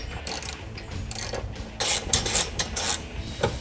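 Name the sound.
ratchet tightening Challenger MBRP exhaust bolt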